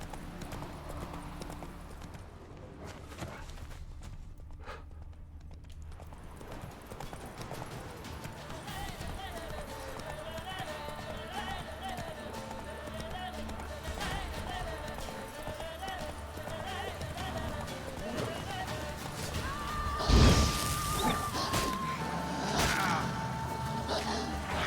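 Horse hooves clip-clopping at a gallop in The Witcher 3, a steady rhythmic patter under game ambience, with a louder crash near the end and people talking over it.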